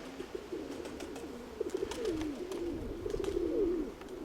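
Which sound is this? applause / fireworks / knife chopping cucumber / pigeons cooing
pigeons cooing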